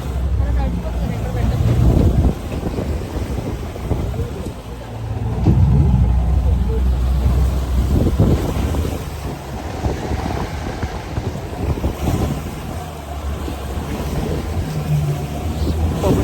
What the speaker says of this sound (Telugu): బోట్ అయితే స్టార్ట్ అయిపోయింది.